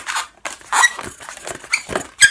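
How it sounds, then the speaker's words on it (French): Latex balloons squeak sharply and repeatedly as they are twisted into a balloon dog, a series of loud, close rubbery squeals and rubs in irregular bursts, with no talking. "Désolé pour les petits grincements dans la vidéo. Et les ballons font ça."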